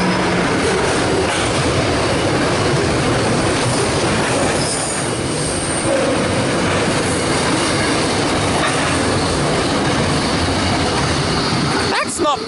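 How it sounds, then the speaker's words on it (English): A freight train hauled by a single locomotive rolls past platform 2 at a station. Loud, continuous wagon rumble and clatter with squealing wheels runs throughout, and a few sharp clacks come at the end. "We got ourselves a freight passing platform number 2."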